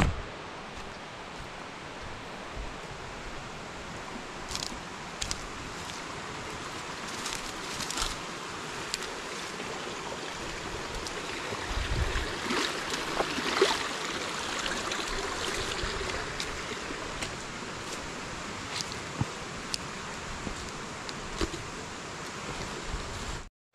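Creek water flowing steadily past a rural spot with overgrown brush, a continuous broadband wash with faint trickling that holds an even level for the whole span, no voices over it.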